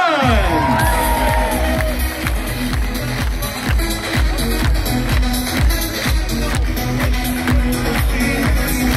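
A large crowd at the Ajax open day football stadium cheering and applauding a defender, with sustained loud roaring, clapping and whoops under music with a steady pounding beat.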